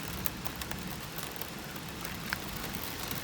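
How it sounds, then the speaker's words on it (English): Rain beginning to fall around a 2011 Camaro RS V6 parked outdoors for an oil change, a steady soft hiss of light drizzle with scattered small drops ticking on surfaces, no talking. "Yeah, it's starting to rain."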